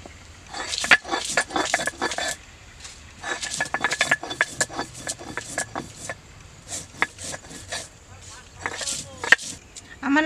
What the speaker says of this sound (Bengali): প্রথমে আমি শুকনো লঙ্কা বেটে নিচ্ছি।